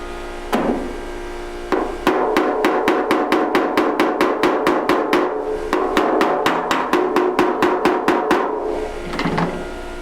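Rapid, evenly spaced metallic hammer blows ringing on car body sheet metal during off-dolly dent bumping, two quick bursts of about a dozen strikes each, close and loud.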